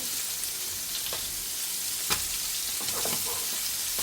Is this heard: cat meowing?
no